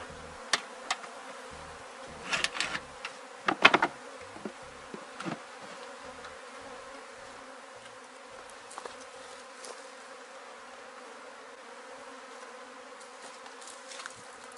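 A swarm of honeybees hums continuously nearby while a beekeeper closes the hive, with a few sharp knocks and clatters early on and quieter buzzing afterward.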